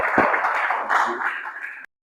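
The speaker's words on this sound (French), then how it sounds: "merci sous vos applaudissements, M. Emmanuel" Audience applause at a conference session, a dense wash of clapping from a seated crowd that holds steady for nearly two seconds before cutting off abruptly.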